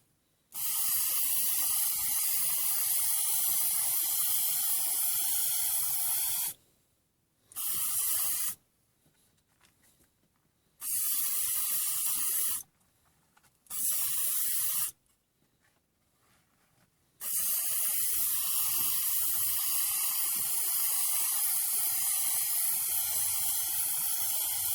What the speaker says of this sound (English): So next I'm going to get a nice coat of spray varnish,